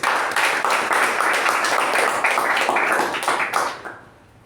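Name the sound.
applause for the evaluator and the speaker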